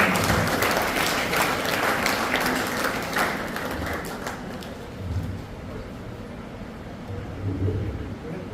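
Applause for a first-ranked student at a school farewell event, steady dense clapping from a crowd that stays fairly even throughout and tapers slightly near the end.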